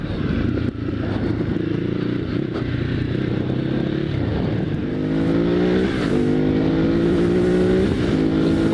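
A 2016 Ducati Hypermotard 939 on a test ride, its engine loud and close as it pulls through rising revs, dipping and climbing again through gear changes under wind rush, with no voices.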